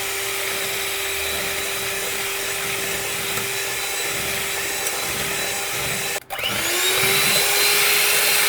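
An electric blender whips milk for homemade chocolate ice cream, a loud, steady motor drone that runs without a break. It dips briefly near the end, then resumes at a slightly higher pitch.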